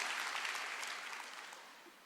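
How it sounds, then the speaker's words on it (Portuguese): Applause from a church congregation during a worship service, a dense steady patter of many hands that holds fairly even and slowly fades toward the end, with no voices over it. "vamos aplaudir ao Senhor"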